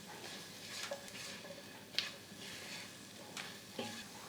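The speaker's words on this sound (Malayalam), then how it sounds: "നല്ലതായിട്ടൊന്ന് ഇളക്കി കൊടുക്കാം." A broccoli and potato stir-fry with a splash of lemon juice is stirred in a pan, giving quiet scattered scrapes and light clinks over a faint low sizzle, very soft and without talk.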